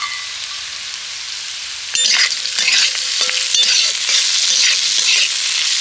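Potato being stir-fried in a hot pan with chopped green chilli and fried peanuts: a steady close sizzle with scraping, clinking stirs that grow louder and busier partway through, with no voices.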